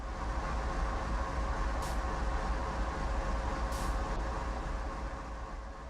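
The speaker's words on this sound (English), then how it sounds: "This locomotive is the AC 4400 CW built by General Electric Transportation of Erie, Pennsylvania." A GE AC4400CW diesel locomotive in Train Sim World gives a steady, dense rumble of engine and rolling noise, with two brief hissing bursts partway through and no talking.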